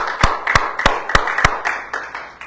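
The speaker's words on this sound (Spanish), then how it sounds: "Un aplauso al Señor" Several people clap in unison in a church service, five loud, sharp, evenly spaced claps followed by a softer scatter of clapping that trails off.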